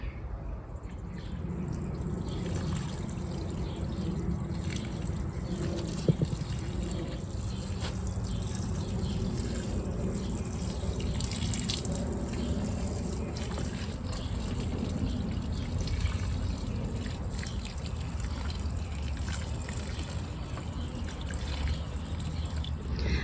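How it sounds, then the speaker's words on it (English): Water trickling and pouring steadily onto freshly planted petunias in a garden bed, a continuous soft splashing stream lasting throughout at close range. "then I'm going to water it in really well"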